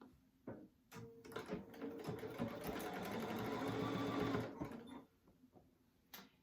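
A sewing machine runs steadily for about four seconds at a 2.5 stitch length, stitching about 1/8 inch from the fabric edge while making a crochet needle case, with softer mechanical clicks before and after.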